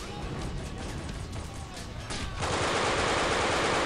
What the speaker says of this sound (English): there's gunfire from every angle here